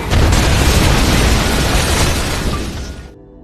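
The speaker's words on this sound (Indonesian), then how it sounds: "ia pun segera meledakkan rumah tersebut." A house blowing up in an action film: a loud, sudden roaring blast that sustains for about three seconds before cutting off abruptly.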